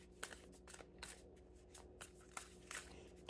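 Soft, close riffling of tarot cards being shuffled, a series of quick papery bursts in an irregular rhythm, quiet with no talking.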